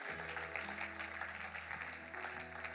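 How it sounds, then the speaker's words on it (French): Church congregation applauding during a French-language service, a steady wash of clapping from many hands that runs throughout, fairly faint and distant. "Quelqu'un ici acclame Jésus."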